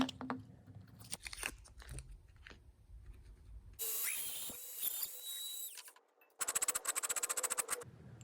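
A power drill bores holes through a 3D printed drill guide in bursts of whining, grinding noise separated by quieter handling knocks and clatter, fairly close.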